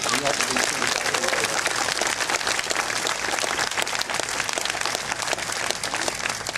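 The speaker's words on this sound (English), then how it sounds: "So let's give them a big round of applause." A crowd applauds loudly and steadily, dense clapping sustained throughout without pause.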